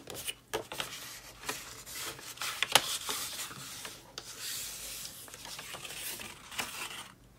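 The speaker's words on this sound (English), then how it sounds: "we can take all of these lines and fold them, or burnish them is the technical term" Folded paper score lines on a card box are burnished with a tool, giving quiet, close rubbing and scraping strokes in irregular bursts with no talk.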